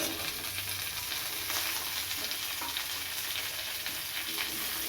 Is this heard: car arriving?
no